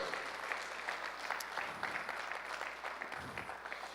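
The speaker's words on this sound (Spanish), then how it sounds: "Dale palmas al Señor, hermano. Dale palmas fuerte al Rey." A church congregation claps their hands together during a worship service, a steady, dense patter of many palms that stays fairly soft and distant throughout, with no other sound rising above it.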